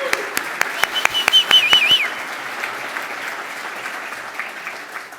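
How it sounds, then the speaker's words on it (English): A crowd at a chamber of commerce awards event bursts into applause for staff, opening with a few crisp, distinct claps over a brief whistle, then settling into a steady, moderate round that continues to the end. "So let's give our staff a big round of applause."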